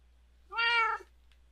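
A single clear meow from a Siamese cat in Minecraft, mid-pitched and drawn out for about half a second, alone against quiet background.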